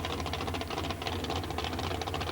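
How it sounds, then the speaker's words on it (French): A supercharged petrol engine of a prototype competition car at Dieppe runs with a dense, steady mechanical drone and rapid knocking pulses, loud and close throughout. "Un moteur bien évidemment compressé."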